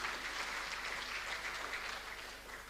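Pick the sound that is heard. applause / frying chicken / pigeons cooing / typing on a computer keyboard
applause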